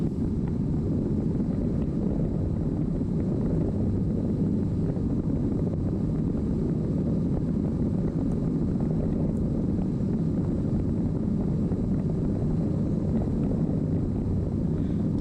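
A light airplane on short final approach for landing at El Monte Airport, heard from inside as a steady, loud engine drone with constant wind rush throughout and no talk.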